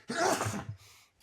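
A single person's sneeze bursts out loud and close, a sharp noisy blast that trails off into softer breathy sound within about a second.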